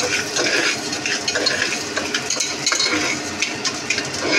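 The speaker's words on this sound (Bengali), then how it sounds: "এই যে মুগ ডাল ঢেলে দিচ্ছি।" Mung dal poured into a cooking pot in a home kitchen, a steady rattling, scraping pour close by with a faint sizzle underneath, continuous for a few seconds with no talking.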